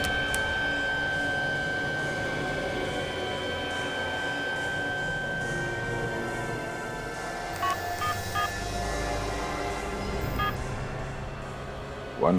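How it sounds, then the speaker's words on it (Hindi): A mobile phone dialing a number, with clear DTMF keypad tones in short bursts near the end over a steady background hum and a faint continuous tone. "इस सिम कार्ड को अपने मोबाइल में डालो और मेरे नंबर पे फोन करो"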